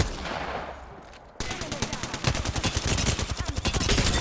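Rapid automatic gunfire in Apex Legends during a fight against a Bloodhound, a burst of close, loud shots after a brief lull, then a dense, rhythmic stream of rounds.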